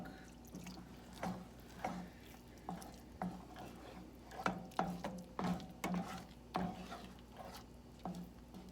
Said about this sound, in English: you want to stir this until it's bubbly and thick